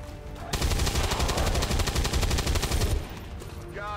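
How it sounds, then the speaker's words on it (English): Rapid automatic gunfire from the XCOM 2: War of the Chosen video game, a loud, sustained burst of shots lasting about two and a half seconds, with no talk over it. "Taking heavy fire. Taking heavy fire."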